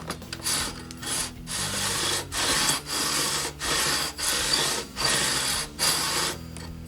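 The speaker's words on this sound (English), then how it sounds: "so I just put a strip of 120 on here. Oh, you can hear the grit." Sandpaper of 120 grit rubbing back and forth on the wooden body of a 1991 PRS Custom 24 guitar, a close, steady gritty scraping in about seven regular strokes with brief pauses between them, no voices.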